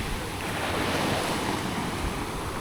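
Sea waves wash onto a clean beach at Dorado in the Dominican Republic. The surf roars steadily and evenly, with wind rushing across the microphone and no voices.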